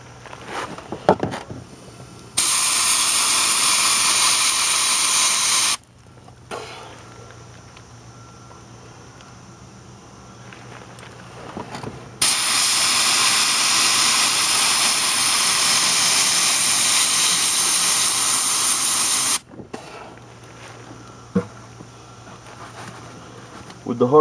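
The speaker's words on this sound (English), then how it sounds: "With the Harbor Freight sandblaster thing here, once in a while you got to give the hopper a shake to get the sand back in it." A Harbor Freight sandblaster blasts in two long, loud, steady hissing bursts, each lasting several seconds, with quieter pauses and brief knocks between them.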